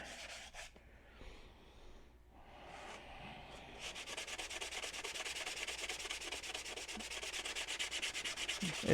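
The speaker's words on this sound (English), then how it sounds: "Very light sanding of a couple of scratches that were in there." Light hand sanding with 320 grit paper over a couple of scratches: soft, quick back-and-forth rubbing strokes in a steady rhythm, close and quiet, preceded by a few faint rustles.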